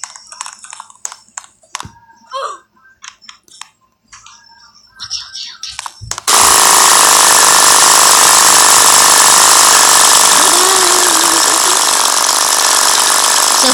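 A motorcycle engine in the game Escape the Dentist starts abruptly after scattered clicks and small sounds, then holds a loud, steady, buzzing drone for several seconds.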